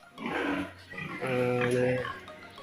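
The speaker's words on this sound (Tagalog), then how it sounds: "Karamihan po sa mga baboy, nagsusungkal-sungkal po sila." Pigs in a pen grunt and squeal while rooting and playing, close and fairly loud in short overlapping bursts, with a person talking over them.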